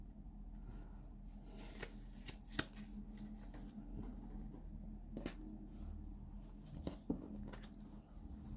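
A deck of adult-themed playing cards being shuffled by hand, with soft, faint riffling and scattered crisp card snaps over a quiet background, and no talking.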